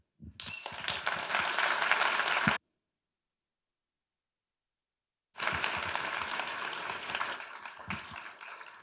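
Audience applause after a keynote at the BSides Edmonton security conference: two loud, dense bursts of clapping, the first about two seconds long, then a silent gap, then a longer stretch that tapers slightly at the end.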